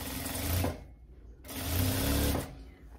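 Sewing machine stitching a blazer sleeve to its lining, two close bursts of rapid mechanical whirring separated by a short pause, with faint talk in the background.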